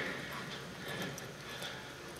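A horse's hooves clip-clop at a barrel racing clinic as the horse works through a turn, a quick, continuous rhythm of footfalls over steady outdoor noise.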